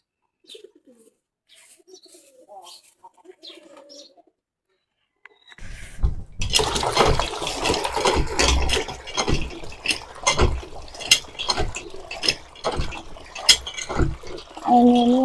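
Water poured over a cow to cool it on a hot day: after a quiet opening with faint bird calls, a dense, continuous splashing and pouring rush begins and carries on to the end.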